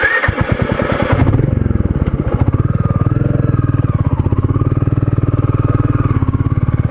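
A Royal Enfield Meteor 350 single-cylinder motorcycle ridden on a ghat road at Kumbharli Ghat, its steady thumping exhaust pulsing loud and close, with rushing wind noise at first and then a rhythmic idle-like throb.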